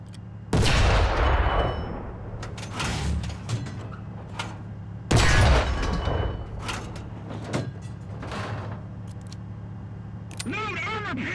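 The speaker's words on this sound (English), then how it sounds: "when you fire at a distant target, you need to aim the cannon a little higher." Two heavy tank cannon shots boom in a video game, each a loud close blast with a rolling rumble. Lighter mechanical clanks and thuds fall between them, and a voice speaks faintly.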